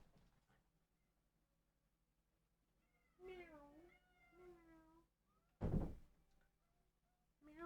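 A cat meows several times up close in a quiet room, with drawn-out rising and falling cries, then a sudden thump.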